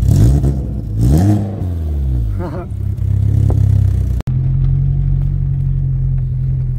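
A Peugeot 306 S16 Phase 1 engine revved from about a metre behind the exhaust, rising and falling in a few sharp throttle blips before settling into a steady, loud idle, with someone speaking over it.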